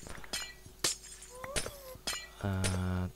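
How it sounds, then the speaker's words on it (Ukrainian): Glowstone blocks being mined and broken in Minecraft, a series of sharp glassy cracks and clinks spaced through the clip, followed by a brief tonal droning sound near the end. "Так, добудемо світлокаменя."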